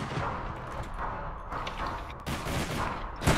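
Steady video game gunfire during an online multiplayer match, a dense, continuous rattle of shots with a sharper burst near the end.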